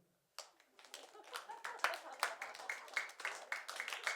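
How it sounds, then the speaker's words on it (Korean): A small church audience claps in a quick, somewhat uneven rhythm of distinct hand claps, fairly soft, starting abruptly after silence and continuing to the end. "박수 한번 쳐줄까요?"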